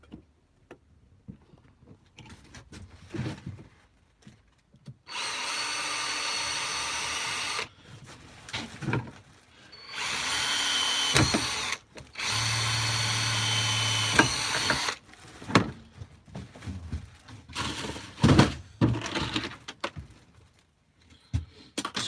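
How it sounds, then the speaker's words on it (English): Power drill boring holes in wood in a shed: several sustained high whirring bursts of a few seconds each, separated by quiet pauses and small clicks and handling knocks, close and fairly loud. "Alright, got that drilled out."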